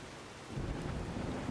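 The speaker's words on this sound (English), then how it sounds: "It has been raining a lot lately." Steady rain with a low rumble of thunder fills a Skyrim game world, the downpour hissing evenly and the thunder swelling louder partway through, with no voices.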